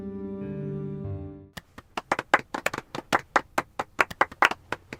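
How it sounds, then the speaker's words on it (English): Mild applause from a museum audience: a scattering of light, uneven hand claps, moderately close, follows a brief sustained tone and fades into sparse final claps. "Yes! Mild applause!"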